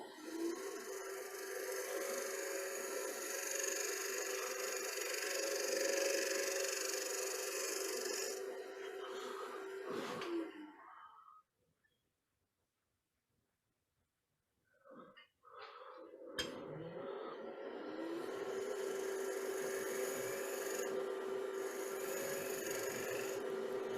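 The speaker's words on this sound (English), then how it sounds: "I'm just going to switch back to that half round scraper and just blend the bottom slightly better." Half round scraper cutting wood on a lathe, a steady close rasping with a faint spinning hum, breaking off into silence midway before the scraping resumes at full strength for the rest.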